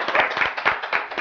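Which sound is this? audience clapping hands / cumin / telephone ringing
audience clapping hands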